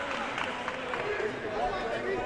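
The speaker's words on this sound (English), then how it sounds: "The crowd is getting into the game." Basketball game crowd at a Turismo-DRD San Juan Challenger 2022 World Tour qualifier, a steady murmur of spectators and chatter in an arena, beneath a commentator speaking.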